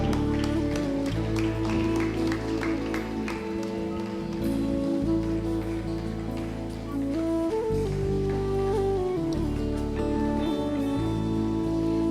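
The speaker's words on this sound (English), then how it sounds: "Give them a round of applause" Applause from the audience at a school annual day celebration after a squad wins the overall championship trophy, a steady, dense patter running throughout over loud music.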